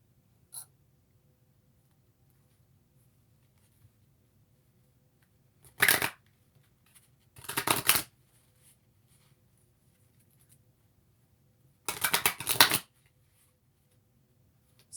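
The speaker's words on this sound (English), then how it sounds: "Let me put these cards down." Tarot cards are shuffled in three quick riffling bursts separated by quiet pauses, close and crisp against a near-silent room.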